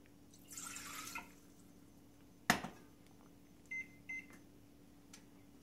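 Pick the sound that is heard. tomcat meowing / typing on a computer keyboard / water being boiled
water being boiled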